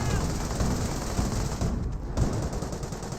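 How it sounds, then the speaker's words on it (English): Rapid 2 cm cannon fire from 222 armored cars in Company of Heroes, loud dense bursts of shots overlapping with battle noise throughout. "We got 2 222s with a 2-centimeter cannon."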